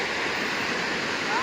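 Tada waterfall roars as a loud, continuous rush of falling water heard from close by, a dense unbroken wash with no pauses.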